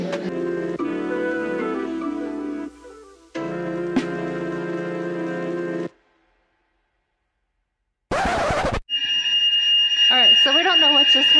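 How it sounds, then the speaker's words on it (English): A fire alarm sounds during a fire drill: a steady loud electronic tone that pauses briefly, cuts out for about two seconds, then returns with a harsher shrill warbling tone. "But the alarm came off"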